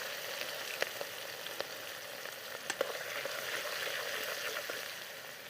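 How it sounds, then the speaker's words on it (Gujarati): Garlic, onion, ginger and green chilies frying in hot oil with cumin, asafoetida and curry leaves, a steady close sizzle with scattered small pops and crackles throughout and no talking. "પછી નાખશું આપણે આ લસણ, ડુંગળી, આદુ અને લીલા મરચાં"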